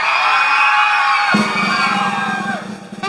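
Outdoor crowd at a beauty contest in Tipitapa, Nicaragua, whooping and cheering loudly and steadily in a continuous roar, with claps blended in.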